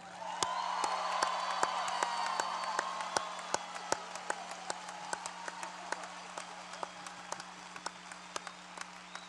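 Hockey arena crowd cheering and applauding number 19 Riley Sheehan, a dense steady wash of clapping and cheers with a low constant hum underneath, gradually easing over several seconds.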